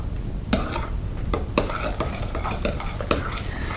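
A utensil scrapes and clinks around a bowl as fluffy slime mixture is stirred, steady irregular strokes with sharp taps against the bowl, close by.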